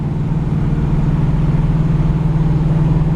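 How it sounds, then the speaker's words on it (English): A 1972 Chevrolet Camaro with a built 400 small-block engine runs with a steady, close, even low rumble and a constant droning hum, with no voices. "It's got a super peppy 400 small block built."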